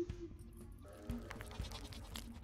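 A ghost goat bleats in the Sally Face video game, giving a few wavering, nasal cries over a low, steady game soundscape.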